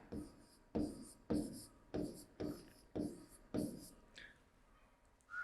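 A pen or pencil draws symbols on a grade 3 pictograph worksheet in about seven regular, distinct scratchy strokes at close range, followed by a few fainter marks, with no talking.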